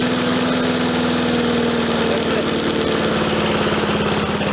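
An MTD 22-inch lawn mower engine under repair, with a governor spring out of adjustment, runs loud and close at a steady idle, its rapid even chugging continuous throughout with no talking over it.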